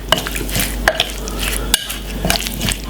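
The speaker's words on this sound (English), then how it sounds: "Give it a stir." A spoon stirs Jamaican stew chicken in a pot, scraping and clinking against the metal with a soft frying sizzle underneath, close and fairly loud with a few sharper knocks.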